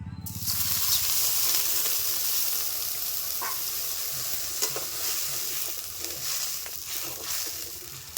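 Water hitting a hot pan to start a sugar syrup for sweets made with flour, a broad steady hiss and sizzle that fades gradually, with a few faint clinks and stirring scrapes, close and without talk.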